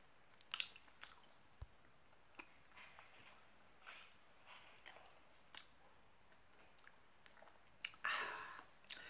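Ice cream bar being bitten and chewed up close, with scattered soft crunches and moist chewing bursts separated by quiet gaps, including a sharper bite near the end.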